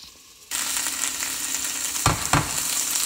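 Sliced potatoes and onion frying in a pot, a sudden burst of steady sizzling that begins after a quiet start, with two sharp stirring scrapes partway through.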